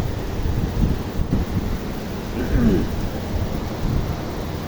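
Heavy rain pours down over Dhaka in a light wind, a steady, dense wash of rainfall that stays close and constant throughout, with no voices.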